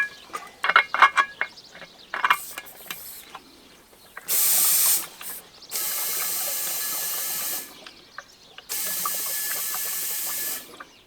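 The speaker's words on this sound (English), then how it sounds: "Okay, so Nick has just pumped it a little bit with the compressor." An air compressor pumps up an inflatable structure on a smallholding, giving repeated loud hissing bursts of rushing air with odd mechanical clicks between them, after some brief handling knocks at the start.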